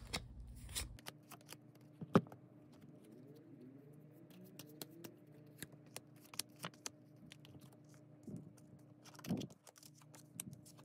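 Tarot cards rustle and flick in quiet bursts of shuffling, with soft scattered taps and a few sharper snaps as cards are drawn and laid down, close and faint with no talking.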